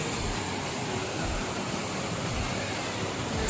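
A continuous, broad rushing roar of a waterfall in Bastar, steady and unbroken, heard from fairly close with no voices.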